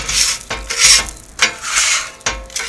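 A dough cutter scraping a barbecue griddle clean, with loud, close, rhythmic rasping strokes, four or five long scrapes with short gaps between them, no talking.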